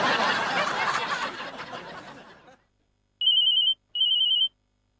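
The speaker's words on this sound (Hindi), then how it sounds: "फोन बज रहा है, फोन उठाओ।" Noisy chatter and laughter fade out, then after a pause an electronic phone ringtone sounds twice, two clear even tones close by.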